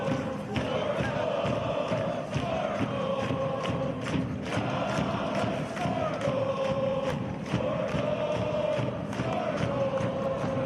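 A soccer stadium crowd at an Athletic Club Boise home match against Monterey Bay FC roars and chants steadily, a dense sustained wall of voices with rhythmic surges and occasional thumps, while a commentator talks over it.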